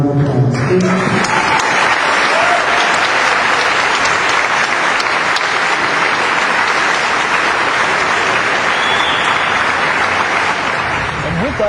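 A large crowd at the opening of a youth and community center with a home ice rink gives sustained, loud applause, a thick wash of clapping that continues without letup from start to finish.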